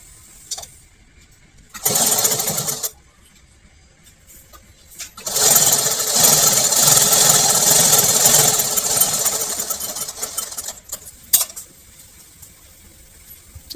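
A sewing machine stitches the shoulder seams of a two-year-old's kaftan, first in a short whirring burst, then in a longer, steady run of loud motor hum before stopping.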